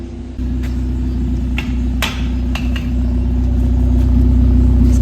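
Honda Civic EG running a BuddyClub Spec 2 exhaust with the silencer fitted, a loud, steady, deep droning rumble recorded close, with a few sharp clanks over it and no talking.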